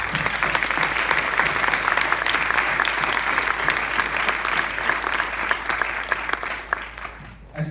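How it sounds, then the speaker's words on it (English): A graduating class claps steadily and fairly loudly at a valedictorian ceremony, a dense sustained round of applause that holds for several seconds before tapering off at the end. "Give yourselves a round of applause."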